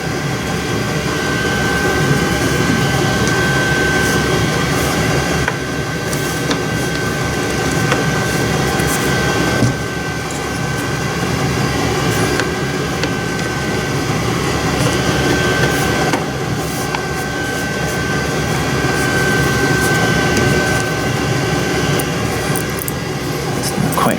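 A Stihl SH55 handheld blower runs steadily after a service, a loud continuous engine whine with a constant tone held for the whole stretch, with slight rises and dips.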